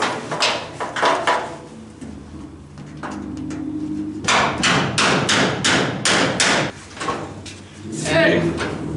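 A hammer knocking on the door panel of an Apache truck during body line repair, several loud metallic thumps in quick bursts, with people talking in between.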